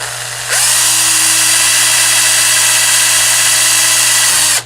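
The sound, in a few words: power drill driving a screw through a GoPro mount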